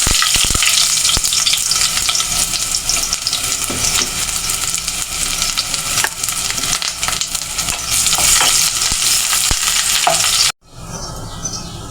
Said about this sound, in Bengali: কড়াইটা গরম করে সরিষার তেল দিয়ে দিয়েছি আর এখন বুড়ানিটা পুড়িয়ে নিব এই যে পেঁয়াজ কুচিগুলো দিয়ে দিই